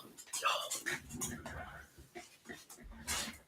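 A dog indoors whimpers and pants softly in a close, uneven series of whines and breaths. Quiet human voices and a few faint rustles sit under it.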